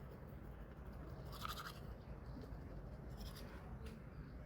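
A toothbrush scrubs teeth outdoors in nature in a few short bristly bursts over a low, steady outdoor background, with faint bird coos in the distance.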